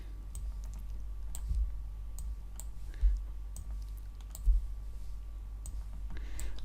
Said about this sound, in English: I'm holding the Alt key down again and I'm just clicking and dragging to the one underneath